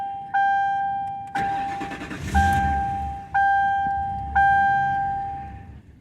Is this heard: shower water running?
no